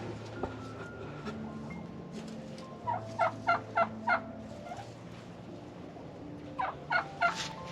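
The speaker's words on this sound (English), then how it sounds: "turkeys are pretty wild though" Heritage breed turkeys in a backyard flock gobble in two loud, close bursts of rapid warbling calls, separated by a quieter stretch of low background noise.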